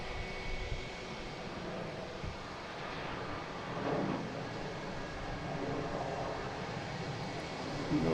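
A JetBlue jet airliner departing Boston Logan for Seattle gives a steady, moderately distant engine roar that stays fairly even throughout, with no talk.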